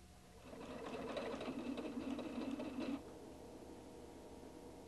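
A Husqvarna Viking Designer 1 sewing machine stitches a programmed design: a steady, close motor whir lasting about two seconds, then stopping, leaving a quiet room.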